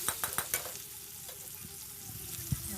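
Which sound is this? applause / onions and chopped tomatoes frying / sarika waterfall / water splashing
onions and chopped tomatoes frying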